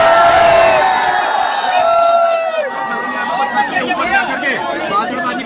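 A large, dense crowd packed onto a rooftop in Pratapgarh makes a loud, steady babble of overlapping voices, with occasional shouts and whoops rising from the throng.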